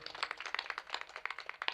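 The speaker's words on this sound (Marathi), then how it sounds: "जोरात टाळ्या वाजवा" An audience claps at a kirtan, a rapid, dense burst of many hands at moderate distance, fairly quiet, sustained across the whole moment.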